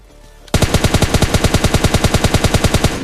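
Automatic gunfire in PUBG Lite as an enemy is finished off, a loud, close, evenly paced burst of about twenty rapid shots that starts abruptly and continues without pause, no speech.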